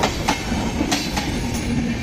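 A mail train pulls into Jessore railway station, its wheels clicking rhythmically over rail joints in a steady rumble close by, with no voices over it.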